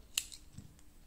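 Scissors snip through yarn while a knitted cork hair clip is finished, one crisp close cut followed by a softer second click, faint and alone.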